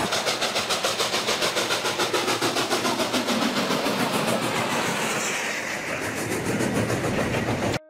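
A train locomotive pulls its carriages along the track, a steady loud rumble with rhythmic clickety-clack from the wheels running throughout, close and continuous until an abrupt stop.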